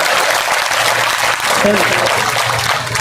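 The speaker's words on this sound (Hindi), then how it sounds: "जोरदार ताली करे सुभान अल्लाह कमाल करे।" An audience claps loudly and continuously at a staged comedy drama performance, a dense, steady wall of applause with a voice briefly heard underneath.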